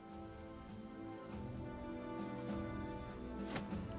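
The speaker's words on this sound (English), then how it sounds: "Sounds like you guys are getting similar rain then" Steady rain falls on a surface, soft continuous patter with scattered drops, faint and even throughout.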